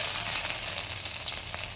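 Nigella seeds, dried red chillies and crushed garlic temper in hot oil, giving a steady, close, even sizzle throughout with no voices.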